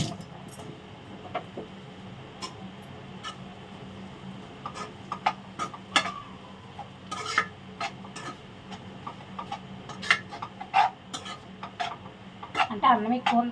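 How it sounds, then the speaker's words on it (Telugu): A tadka for fried rice sizzles softly in a pan in a home kitchen. The sizzle sits under frequent utensil clinks and scrapes, with brief taps and clatter that get busier toward the end. "ఫ్రైడ్ రైస్ అయితే తాలింపు పెట్టేస్తున్నాను"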